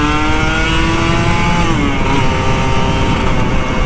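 Kawasaki Ninja RR 150 two-stroke motorcycle revving up close, a loud, steady buzzing engine note with rising harmonics that holds high throughout with no pauses.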